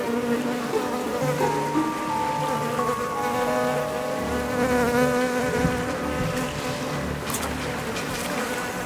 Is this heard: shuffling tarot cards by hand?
no